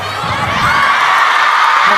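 A packed arena crowd before a table tennis match at China Smash, a loud, continuous wash of cheering and shouting that holds steady, with no clear single voice standing out.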